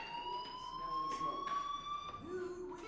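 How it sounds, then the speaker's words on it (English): A fire alarm rings in the video game Life is Strange, a steady high electronic tone with harmonics that holds throughout, clear and fairly close, with faint background sounds beneath it. "Hey, do you hear that fire alarm?"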